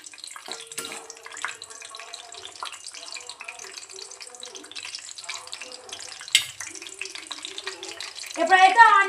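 Whole biryani spices and bay leaves fry in hot oil with a soft, continuous sizzle, punctuated by light stirring clicks and a louder crackling burst near the end.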